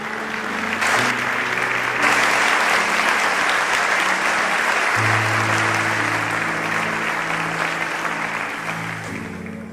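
A church congregation applauds, a loud, dense and continuous wash of clapping from many people lasting several seconds, with low tonal sounds in the background.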